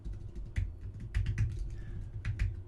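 Fast clattering keystrokes from a computer keyboard arrive in quick irregular bursts with brief pauses, close up and moderately loud, over a faint low hum and with no voices.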